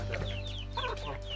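A chicken clucks in a quick series of short calls, close and clear over a steady background hum, somewhere in a forest setting.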